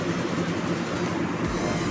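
The KA Serayu Malam night train rumbles steadily into Purwokerto station, a continuous low rolling clatter of railcars heard from onboard, with no voices.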